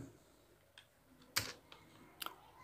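A few faint, sparse keystrokes on a computer keyboard while Android app code is written. The taps come singly, with quiet gaps between them, over a low room hiss.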